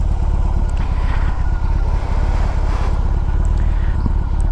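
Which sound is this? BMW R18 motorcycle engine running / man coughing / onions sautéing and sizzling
BMW R18 motorcycle engine running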